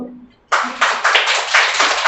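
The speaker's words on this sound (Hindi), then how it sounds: "इसके लिए तालियां होनी चाहिए" A classroom of students bursts into applause after a brief quiet moment, a dense and loud patter of many hands clapping together that holds steady until the end.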